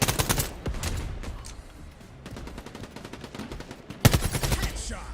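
Rapid bursts of gunfire in the competitive shooter video game Quantum League, loud and close, with dense volleys at the start, sparser shots through the middle and a sharp renewed burst near the end.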